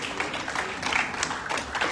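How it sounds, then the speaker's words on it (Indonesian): A congregation at a Christmas church service claps together, a dense patter of hands with slight rhythmic swells, filling the room for a couple of seconds. "Boleh tepuk tangan buat Tuhan Yesus."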